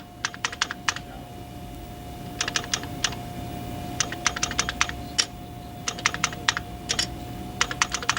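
Bursts of rapid keyboard typing, crisp clicking keystrokes in short clusters separated by pauses, close and clear over a steady low electronic hum.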